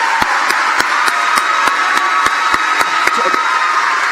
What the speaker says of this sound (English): Let's give a round of applause for these wonderful students.